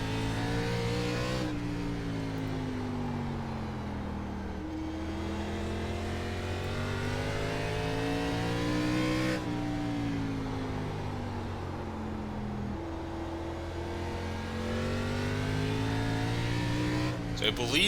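A race car engine in the iRacing ARCA Menards Series game at Southern National drones continuously at high revs, with pitch dipping and climbing through corners and two sharper shifts, loud and steady under occasional talk.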